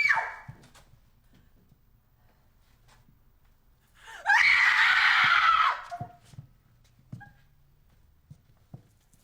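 A person lets out one loud, sustained scream lasting about two seconds in an otherwise quiet room, with faint thumps and small noises around it.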